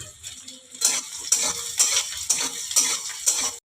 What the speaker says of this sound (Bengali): আমার পেঁয়াজগুলো লাল করে ভাজা হয়ে গেছে।